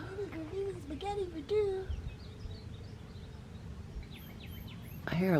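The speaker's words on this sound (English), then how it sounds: "You can hear all these birds, but you can't see any of them." Scattered chirps and tweets from unseen birds in a warm Texas state park around mid-morning, with calls rising and falling at moderate distance against steady outdoor ambience, a voice talking at the start and a burst of calls near the end.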